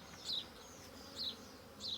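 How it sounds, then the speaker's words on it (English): Honeybees from a three-pound package buzz in a young hive, a faint, close, high whine that swells in three short passes as individual bees fly near, over a soft low hum. "We put a package of bees in there, which contains 3 pounds of bees of all ages."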